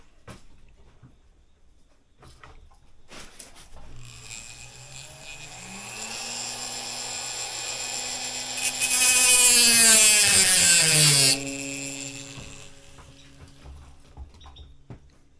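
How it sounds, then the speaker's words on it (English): A high-pitched rotary tool whines and grinds, rising in pitch and intensity as it bites in cutting a notch in a banjo's fifth-string nut, then drops back to a steady spin. "Sounds like the noise a dentist drill would make."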